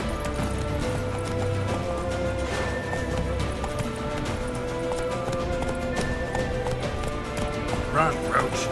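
Roach the horse gallops in The Witcher 3, steady rhythmic hoofbeats running continuously under game music and ambience, with voices speaking over the gallop.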